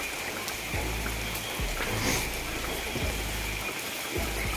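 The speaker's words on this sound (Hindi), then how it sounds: "अभी बारिश हो रही है यहाँ पे।" Rain falls steadily at Kemmangundi jungle hill resort in Chikmagalur, a continuous wash of drops and dripping water close by, with a few low thumps underneath and no talking.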